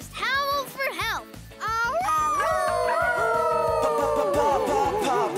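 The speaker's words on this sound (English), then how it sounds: "if you're ever in trouble, just howl for help" Cartoon dogs howling in a children's animated show, several rising and wavering howls that start in short yips and then stretch into long sustained notes layered over each other, loud and close with music underneath.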